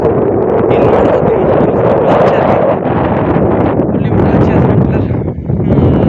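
Strong wind sweeps across an open farm field and buffets the microphone with a loud, unbroken roar that holds steady throughout.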